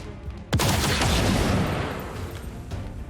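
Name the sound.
gunshot at the Andromedon in the video game XCOM 2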